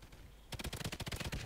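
Rapid bursts of automatic gunfire from the Call of Duty Ghosts video game, starting after a brief quiet lead-in and continuing as a loud, dense run of close shots with no talk.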